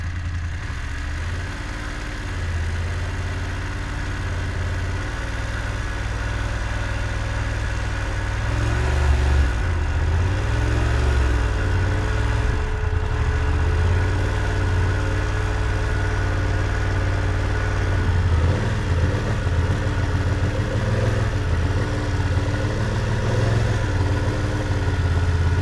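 A motorcycle engine idles and runs at low speed during a slow-speed riding lesson of U-turns and serpentine exercises, a steady low rumble that holds throughout and grows slightly louder midway with no talk over it.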